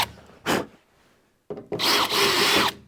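A power drill boring into the door of a restored Tin Grille Dodge truck in short bursts: a brief whir, a pause, then a longer, louder grinding run up close.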